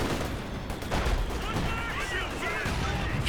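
OKW howitzer shells thunder across a Company of Heroes 2 battlefield, a dense continuous roar of heavy blasts and gunfire layered with a busy combat din and voices underneath.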